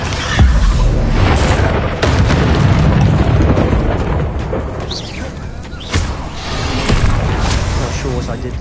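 Heavy, booming spell explosions go off in Hogwarts Legacy combat, with repeated thudding blasts and bursts layered over dense game noise and a voice calling out a spell.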